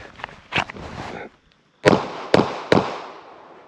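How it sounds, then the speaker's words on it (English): Three sharp pistol shots fired at about seven yards on an outdoor range at a USPSA target and steel, drawn from concealment; loud distinct cracks spaced roughly half a second apart, preceded by quieter shuffling and movement noise. "Three shots"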